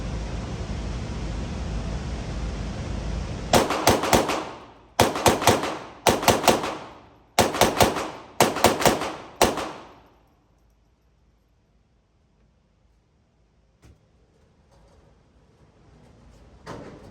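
A Taurus TX22 .22 pistol fires in quick sharp bursts of about three shots at a time, several clusters in rapid succession at close range on a 7-yard target course, then quiet with faint handling noise.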